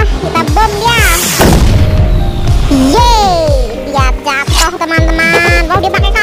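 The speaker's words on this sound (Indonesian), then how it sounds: "Kita bom dia." A bomb explodes in the horror game Who Dies First with a loud, sudden blast early on. Pitched game sounds and a lively voice, talking or exclaiming, run around and after it.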